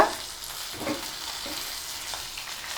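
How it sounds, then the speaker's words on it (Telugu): Whole cloves, cardamom pods, a piece of cinnamon, coriander sprigs and mint fry lightly in a pan for a tindora masala curry, giving a steady close sizzle with faint stirring and no voices. "అన్నీ లైట్గా ఫ్రై చేసుకోవాలండి"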